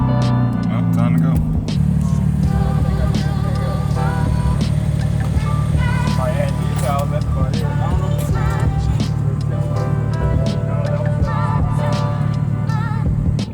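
A car engine idles steadily while warming up before a nighttime Euro car meet, a constant low rumble running throughout with people talking over it.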